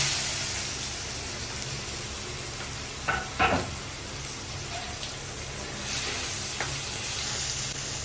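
Two green chillies and two small chopped onions fry in hot oil in a home kitchen, with a steady soft sizzle and a few brief stirring clatters near the middle.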